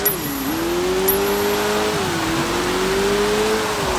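A car in the video game Sleeping Dogs drives at speed with a steady engine drone whose pitch rises and dips as it accelerates and shifts, loud and continuous with no talk.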